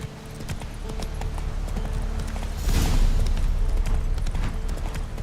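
A horse galloping in the Witcher 3 video game, Roach's hooves drumming in a steady, fast clip-clop rhythm close by, with a swell of game music and ambience building midway.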